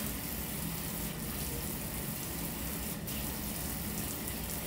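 Steady, continuous gush of water from a tap during a surgical hand scrub as hands are rinsed under the flow, a constant broadband splashing that stays even throughout with no voices.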